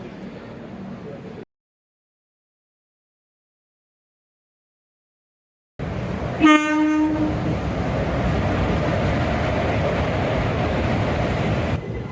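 An Indian passenger train arrives at a station platform on an Aurangabad to Secunderabad journey, sounding one loud, sustained horn blast over a steady rolling rumble of wheels and carriages, after a brief stretch of silence.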